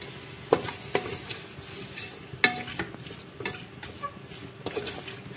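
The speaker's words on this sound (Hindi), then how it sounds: "इसमें ऐसे थोड़ा सा चला दूंगी इसके साथ" Beef being stirred in a frying pan with garlic-ginger paste and spices, giving a steady low sizzle broken by several sharp scraping knocks of the spoon against the pan at irregular intervals, close by with no talking.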